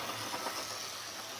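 A model Western Region diesel locomotive runs with a steady, low motor hum and faint mechanical rattle, a continuous even drone with no talk.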